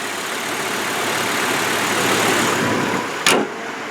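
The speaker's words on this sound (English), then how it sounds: "that is the 2005 GMC Canyon cold start" A 2005 GMC Canyon pickup idles steadily after a cold start, a continuous close engine rumble with a brief knock near the end, no talk.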